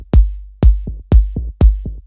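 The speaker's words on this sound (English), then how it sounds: "So our toms in combination with our kick sound like this." Electronic drum toms layered with a kick drum hit four times in an even pattern, each deep punchy kick followed by a shorter, pitched tom thud, loud and dry with silence between hits.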